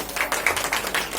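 A small audience at an award ceremony claps briefly, giving a few distinct hand claps in a quick, loose rhythm with some background hum.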